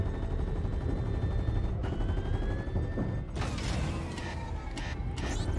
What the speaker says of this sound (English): Oh, the guns overheat.